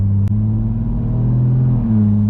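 A loud, modified 600bhp BMW M140i engine holds a deep, steady rumbling drone close by, with a brief click near the start and no talking.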